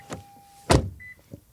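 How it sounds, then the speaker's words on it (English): A 2020 Toyota Corolla door swings shut with one solid, close thump, preceded by a faint click and a thin electronic tone, followed by a couple of quieter taps and latch sounds. "Let's check about the door closing sound."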